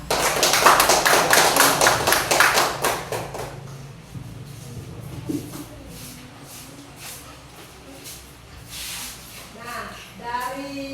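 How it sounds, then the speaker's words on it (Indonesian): Classroom applause for a student group, a burst of clapping for about three seconds that fades into quiet room noise, with a voice speaking afterward. "Kita beri aplaus untuk kelompok 2"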